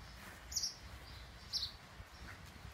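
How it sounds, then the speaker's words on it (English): Birds sing in overgrown country lanes, with two short high chirping phrases about a second apart and a fainter third call, set against a quiet outdoor background. "through the little overgrown lanes, for 5 minutes to listen to the birds."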